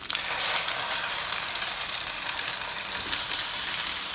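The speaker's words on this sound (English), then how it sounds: "We'll go into our pan." A breaded mozzarella sandwich frying in oil in a pan, giving a loud, steady, close sizzle that stays constant throughout with no talk.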